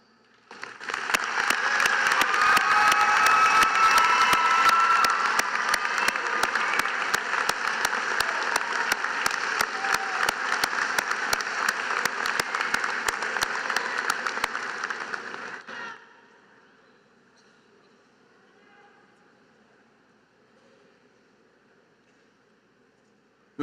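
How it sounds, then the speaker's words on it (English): A large crowd at a 2018 law school commencement ceremony bursts into sustained, loud applause that holds steady for about fifteen seconds, then cuts off abruptly, leaving quiet room tone. "congratulate them with a round of applause"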